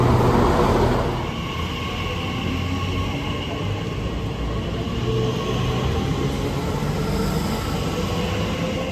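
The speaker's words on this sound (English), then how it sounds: "So time to catch our train back to London, which is literally on that other platform." A train at a railway station platform gives a steady rolling rumble with a sustained hum, loudest at the start and then holding level, with no speech.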